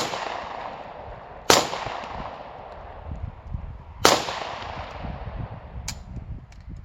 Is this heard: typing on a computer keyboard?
no